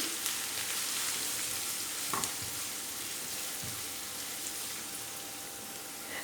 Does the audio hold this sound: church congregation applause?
no